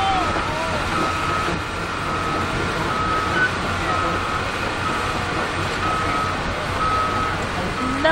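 Trucks reversing at a construction site sound repeated high electronic backup beeps at a regular pace over a constant rumble of heavy engines and machinery.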